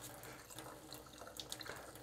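A sink tap runs water as a paintbrush is rinsed during hairspray chipping work on a miniature: a faint, steady stream with a few soft splashes and no speech.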